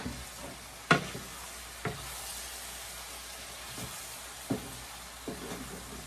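Food for shepherd's pie being stirred in a pan over the heat, with a soft steady sizzle under a few sharp spoon scrapes and knocks spaced irregularly, close by and fairly quiet.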